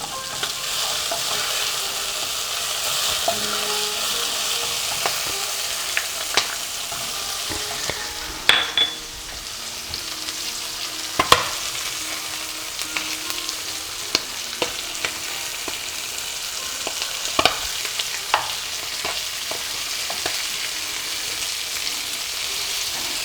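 Chicken heart and liver frying in a pan with sun-dried tomato for Persian del-jegar, a steady close sizzle with bursts of stirring and scraping throughout, no talking.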